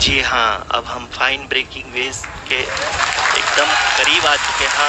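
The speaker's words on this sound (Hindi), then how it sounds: "आप तालियों के गड़गड़ाहट से सुन सकते हैं" Applause and cheering rise in a control room as Chandrayaan 3 nears its lunar landing, building under a commentator's voice and swelling to a continuous roar.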